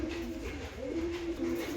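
Pigeons in a breeding loft coo in a steady, low, throaty warble that rolls on without pause, close and fairly loud, with no voices over it.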